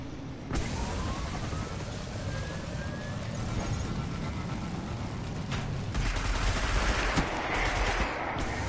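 Turret gunfire in the sci-fi shooter Destiny, a dense, continuous stream of shots with a low rumbling bed that keeps going for several seconds, with an engine-like drone and bursts of other weapon fire mixed in.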